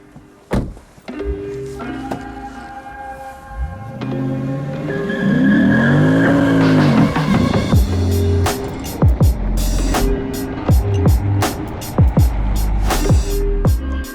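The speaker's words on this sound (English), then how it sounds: "this is a Lexus, and it has a big V8 in it" A 2023 Lexus IS500 F Sport Performance sedan's V8 engine revs up and roars loudly, rising and falling through the gears, with tire noise and sharp thumps as it drives hard.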